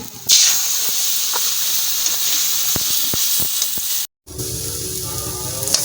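Ginger, cumin and dried chili spice paste sizzles and hisses steadily while frying in a pan, a continuous loud crackle with no talk, briefly cut out near the end before resuming.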